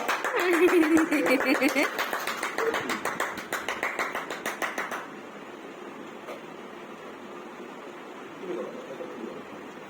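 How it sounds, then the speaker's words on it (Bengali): A child claps hands indoors at home, a quick run of rhythmic claps that stops partway through. Voices chatter faintly around and after the clapping. "হাততালি দাও।"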